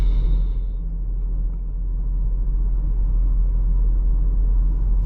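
2026 VW Taos cruising on the road, heard from inside the cabin as a steady low rumble of engine and tyre noise that holds even and unbroken throughout, with no talking.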